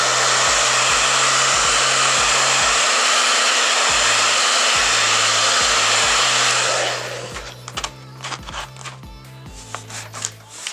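A heat gun warms 3M Finish Line vinyl tape for tank stripes on a Yamaha Warrior 1700, blowing a loud steady roar that cuts off after about seven seconds, leaving only faint rubbing and background music.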